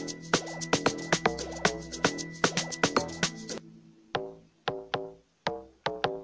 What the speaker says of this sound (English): This is how my second log drum goes like.